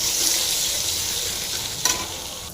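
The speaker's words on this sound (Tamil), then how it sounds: "இடித்த பூண்டு இதையும் போட்டு நல்லா கலந்துங்க" Crushed garlic and mustard seeds frying in hot oil in a home kitchen, a steady close sizzle with light stirring, holding an even level with one brief sharper crackle near the end.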